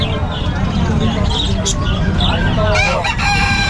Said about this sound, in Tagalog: Ito mga ibon nito ni Boss John